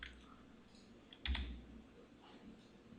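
A computer keyboard key is pressed to delete an item in interior design drawing software, giving a few faint, close clicks, with one slightly stronger keystroke near the middle over a quiet room.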